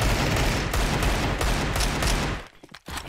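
Rapid gunfire in a shooter video game, loud dense bursts of shots cracking in quick succession, then cutting off into a couple of scattered pops.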